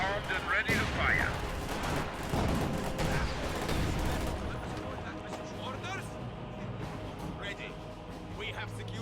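Artillery batteries fire in a strategy video game, with booming blasts and rumbling explosions clustered early and then fading into a quieter background.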